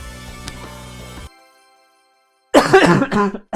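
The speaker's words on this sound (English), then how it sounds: "I'm sorry, I'm coughing." A harsh burst of coughing cuts off into silence, then a person starts talking.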